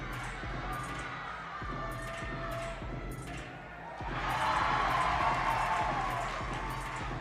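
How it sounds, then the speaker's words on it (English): At a college gymnastics meet, a crowd cheers with a noisy roar that swells loudly in the second half, mixed with thumps and shouts. "Crowd's loving it already."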